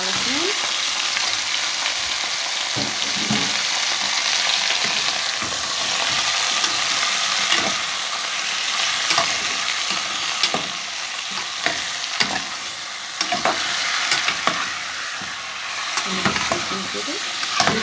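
Chicken stirred as it fries in a pan, giving a loud continuous sizzle broken by repeated scraping and clattering strokes of a utensil, close up with no talking.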